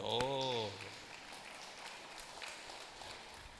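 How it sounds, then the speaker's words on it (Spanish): A church congregation applauds a child, a steady, even patter of many hands spread through the room after a brief spoken word at the start. "Demos un aplauso a este niño"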